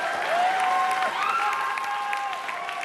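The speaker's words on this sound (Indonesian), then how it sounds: "Kita boleh tepuk tangan?" Studio audience applauding at the opening of a televised 2017 Jakarta gubernatorial election debate, steady sustained clapping throughout with a faint tonal hum underneath.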